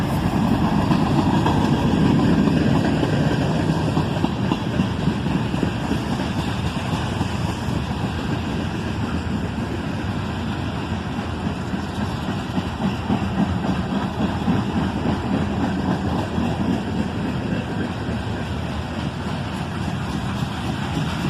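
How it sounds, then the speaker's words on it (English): Two ES44AC locomotives lead a southbound manifest freight of covered hoppers and tank cars, cruising slowly past on a yellow signal, a loud continuous rumble and engine drone with wind buffeting throughout. "A pair of ES44 ACHs lead a southbound manifest train, cruising slowly on that yellow signal"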